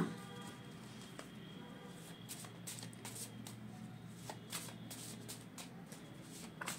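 Tarot cards are shuffled by hand in a soft, continuous riffling patter with light flicks and taps, close but quiet and alone.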